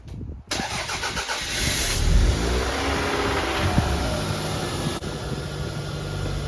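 A Toyota Celica GT ST202 engine cranks briefly, catches and fires up, then revs and settles into a loud, uneven idle close by, with no speech over it.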